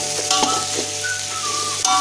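Chopped vegetables for veg pulao sizzle steadily in a hot pan while being stirred, with a constant frying hiss and a few scraping strokes, close and fairly loud, with no voices.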